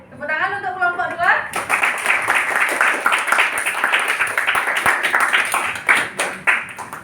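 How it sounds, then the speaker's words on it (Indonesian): A classroom of students claps for a presenting group, bursting into quick, uneven clapping after a brief spoken line and continuing for several seconds, with some voices mixed in. "Tepuk tangan untuk kelompok 2."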